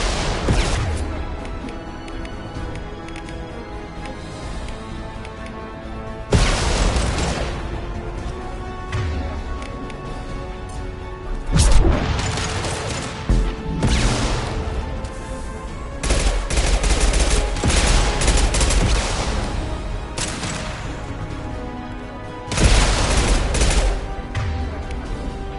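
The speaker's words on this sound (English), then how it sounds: "Firing an impact shot!" Gunfire in the sci-fi shooter Mass Effect 2 rattles in sustained heavy fusillades of rapid shots and booming impacts, loud and continuous with several sharp bursts standing out over the din.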